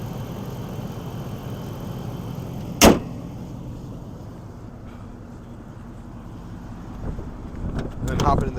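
The 5.7 liter V8 of a 2009 Dodge Ram TRX Quad Cab runs on a 30-degree day, a low rumbling drone heard from inside the cab, broken by a single sharp click and some rustling near the end.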